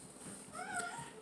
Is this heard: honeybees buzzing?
no